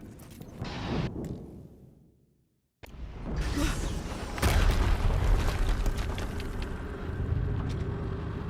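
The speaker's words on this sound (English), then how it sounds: "Another explosion." An explosion in the video game Horizon Zero Dawn, a heavy booming burst that cuts off into brief silence before a loud, sustained rumbling roar of blasts and debris.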